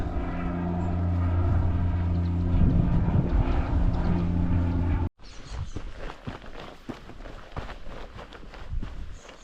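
A propeller aircraft drones loudly at the small island airport on St Mary's in the Isles of Scilly, with a steady engine tone for about five seconds, then a cut to quieter outdoor noise with footsteps.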